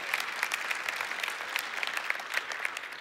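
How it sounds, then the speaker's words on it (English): A church congregation claps steadily for a few seconds, a dense even patter of many hands filling the room without a break. "Come on, you can clap for that."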